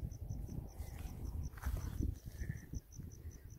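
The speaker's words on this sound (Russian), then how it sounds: "Я слышу, как внизу цикады. Цикады поют." Cicadas sing from below a grassy hillside in Karaburun, a faint, regular pulsing chirp repeating steadily in the distance over soft wind and rustling near the microphone.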